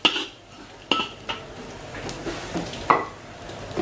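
Fine dried shrimp (ebi) stirred in a little oil in a pan while cooking filling for Kalimantan-style choipan, with soft sizzling and several sharp utensil clinks and scrapes against the pan, close and fairly quiet.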